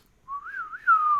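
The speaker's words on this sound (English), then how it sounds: "I can't whistle very well." Someone whistles a short, clear wavering tune, rising and falling once and then holding a steady note, close and alone in a quiet room.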